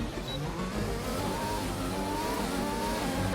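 An F1 2020 race car engine in a video game, driving in arcade mode, holds a loud continuous high-pitched whine as it accelerates steadily without pause.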